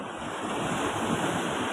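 Steady roar of sea waves washing in continuously, with wind buffeting the microphone; no voices.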